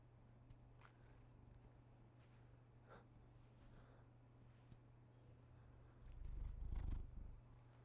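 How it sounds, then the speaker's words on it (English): A cat purring close up, a soft steady low rumble throughout that swells louder near the end. "Look at this freaking cat."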